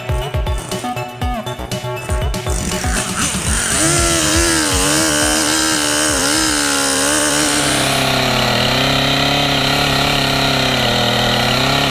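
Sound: chainsaw cutting wood

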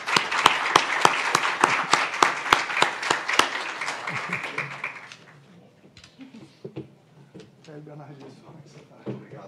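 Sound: audience applause

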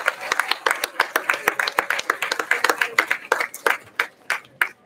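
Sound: audience applause for performers and music teachers

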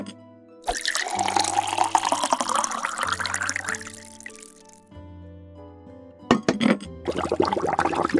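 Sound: tea being poured from a teapot in a cartoon

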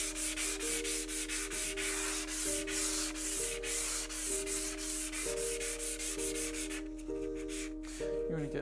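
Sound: sanding a hand saw plate with 220 grit sandpaper

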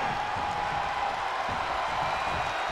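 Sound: wrestling arena crowd roaring at WrestleMania

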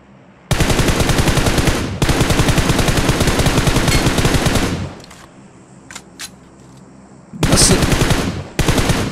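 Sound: automatic gunfire in a video game, PUBG-style shooter

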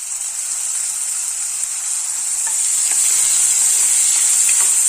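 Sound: tomatoes added to sautéing onion and ginger-garlic paste

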